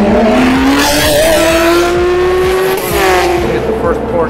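Race car at speed on the Le Mans circuit, a loud continuous engine note climbing steadily in pitch through the gears, close and dominant, with a voice faintly underneath.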